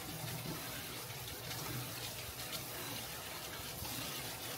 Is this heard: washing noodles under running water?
yes